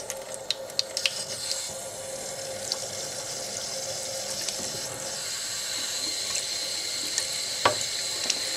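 Tap water runs steadily into a sink while a makeup brush is swished and rinsed by hand, giving a continuous close splash with occasional small clicks and drips on top.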